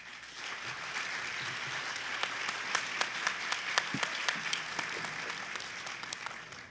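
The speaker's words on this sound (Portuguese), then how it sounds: "As palmas." An audience applauds at a public hearing on adolescents in conflict with the law, steady clapping throughout with sharper individual claps standing out.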